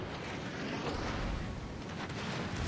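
Heavy naval gunfire in World of Warships around the battleship USS Arizona BB-39, a dense, steady roar of booming blasts filling the whole span at loud, constant intensity with no speech.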